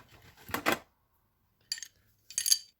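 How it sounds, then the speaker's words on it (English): Metallic clinks and rattles of a heavy Blue Point chain wrench being handled, one loud clatter followed by two shorter jingling knocks with quiet gaps between. "And last thing in this drawer is a chain wrench."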